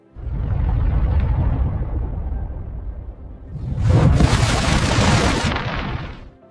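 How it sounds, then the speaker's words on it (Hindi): Documentary-style sound effect of an asteroid impact explosion: a rumbling low roar builds, eases, then a sharp, bright blast erupts with a crackling roar that decays after a couple of seconds. "धमाका"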